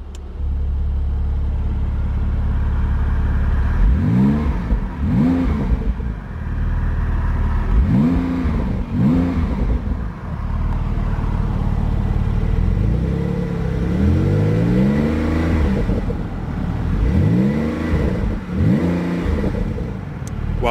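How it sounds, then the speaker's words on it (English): Porsche 911 Turbo S Convertible (2023, 992 generation) with sports exhaust engaged, revving repeatedly in loud rising-and-falling bursts of engine note over a steady idle rumble, with no talking. "Let's go ahead and activate the sports exhaust."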